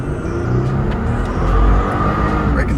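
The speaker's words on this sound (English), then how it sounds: "breaking the tires loose even in first gear" A supercharged third-generation Toyota Tacoma pickup accelerating hard from a standstill in first gear, the engine roaring in a loud, close, sustained rumble as the tires break loose.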